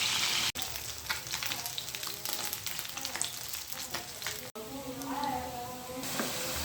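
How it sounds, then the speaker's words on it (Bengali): Rohu fish pieces fry in a pan with a steady, close sizzle and crackle that runs throughout, with brief clicks and one short break, and no talking over it. "এই মাছটাকে ভেজে নিচ্ছি।"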